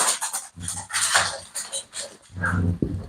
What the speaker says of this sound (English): These dogs start as soon as I do that.